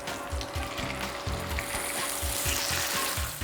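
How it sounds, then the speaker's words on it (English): Steak sizzles in a hot pan with avocado oil, a steady close frying hiss with crackling spatters and low bubbling pops throughout, no voices. "as you can hear, our steak is sizzling"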